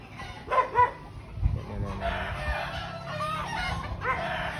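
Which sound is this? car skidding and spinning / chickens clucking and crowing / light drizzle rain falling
chickens clucking and crowing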